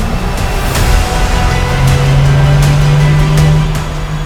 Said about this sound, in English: we are going to run the car on the dyno for a while for the tune to adapt